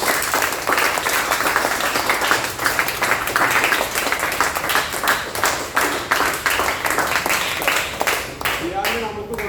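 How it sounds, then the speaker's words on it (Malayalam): Audience giving a standing ovation to the winner of a karate tournament, with sustained, dense clapping and cheering throughout that rolls on loudly before starting to thin out near the end. "എല്ലാവരും എണീറ്റ് നിന്നിട്ടൊരു കൈ ബിഗ് ക്ലാപ്പ് കൊടുക്കുക"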